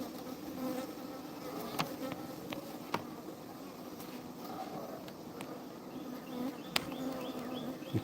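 A swarm of bees drones steadily on Memorial Day, a dense continuous buzz with occasional louder bees passing close, no voices.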